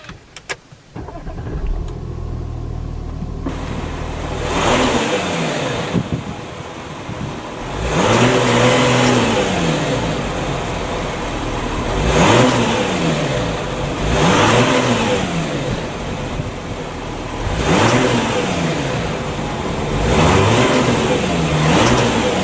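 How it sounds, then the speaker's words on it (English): The engine of a 2014 Audi A6 Allroad starts with a brief crank, then settles into a steady idle and is revved repeatedly in even swells, each rising and falling, close by with no talk. "So let's power on the A6 and see how it sounds."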